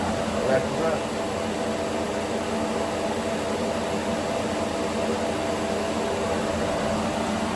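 An electric fan running steadily beside a drying rack, a constant broadband whirring hum that stays even and close throughout.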